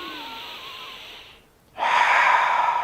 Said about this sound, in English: So when you do nose breathing,